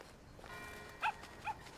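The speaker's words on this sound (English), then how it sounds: "I can hear the doggo." A dog in the video game Alba: A Wildlife Adventure gives two short, clear barks about half a second apart, moderately close over soft ambient game background.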